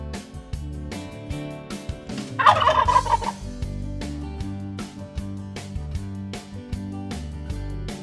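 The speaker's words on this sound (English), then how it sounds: "Here are our gobbling turkeys. They strut around the farm and make funny sounds." Farm turkeys let out a loud, rapid gobbling burst near the middle, set against a rhythmic backing track.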